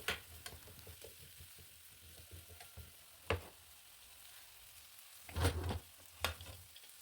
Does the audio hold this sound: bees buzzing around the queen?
no